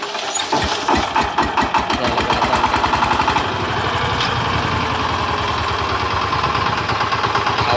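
A farm tractor's diesel engine is cranked with the starter in rapid, loud pulses, catches after a few seconds and settles into a steady, close-up idle rumble. No one speaks.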